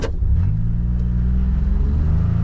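A John Deere machine's engine runs loud and close as it descends a steep grade, a steady low rumble and drone that holds evenly throughout with no voices.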